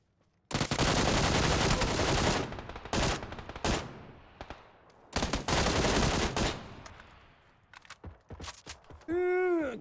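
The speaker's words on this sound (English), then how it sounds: "There's a QBU guy down there with a suppressor shooting at me." Suppressed QBU rifle firing in PUBG: a handful of loud, sharp bursts separated by short gaps, each fading into a hissing tail, ending with a ringing, wavering tone.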